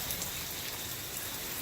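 Heavy hurricane rain falls in a dense, continuous hiss that drums on surfaces nearby. The downpour holds a steady loudness throughout, with no breaks and no voices.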